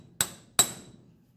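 Two sharp metallic hammer blows on a DA sander part, about half a second apart, each ringing briefly before fading into a quiet background.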